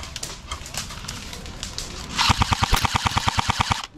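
An airsoft light machine gun fires a rapid, evenly spaced burst of about fifteen sharp cracks, loud and close, following scattered fainter shots and ambient noise outdoors.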